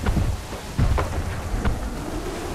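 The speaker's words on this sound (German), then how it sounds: "Kommt ein Sturm auf, Captain. Könnte schlimm werden." Stormy weather at sea in Assassin's Creed 3, with steady rain and wind roaring throughout and several deep rumbles of thunder rolling in at intervals, loud and close, with no voices.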